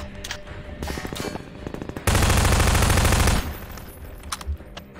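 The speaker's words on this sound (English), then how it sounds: "Tiny pistol." Rapid pistol fire in the game Half-Life 2, a scattering of sharp shots followed by a loud, dense burst of repeated firing lasting over a second, then quieter game noise with no voices.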